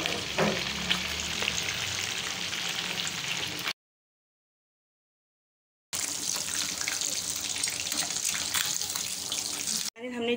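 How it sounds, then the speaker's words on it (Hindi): Fish coated in salt and garlic-ginger paste frying in hot oil gives a dense, steady sizzle and crackle, close and loud. The sizzle cuts out into silence for about two seconds midway, then returns. No voices. "अब इसमें हमने नमक और लहसुन अदरक का पेस्ट लगाकर हम इसको फ्राई कर रहे हैं।"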